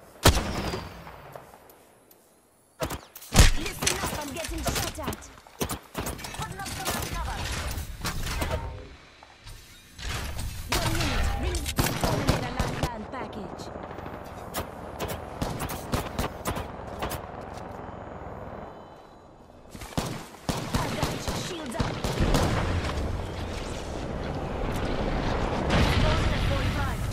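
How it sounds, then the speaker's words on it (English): Gunfire in the shooter game Apex Legends, with loud bursts of automatic shots and impacts in repeated clusters, broken by short quiet gaps and mechanical clanks, continuing almost nonstop near and loud. "Listen up, I'm getting shot at."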